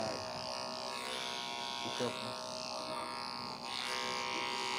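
Electric clippers buzz steadily and continuously while shaving a matted dog's coat around the cheek and neck, with a voice talking intermittently over the drone.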